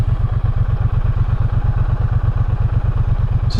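Triumph Bonneville T120 Icon edition motorcycle idling nearby, a steady loud low thumping pulse with an even rhythm throughout, no voices.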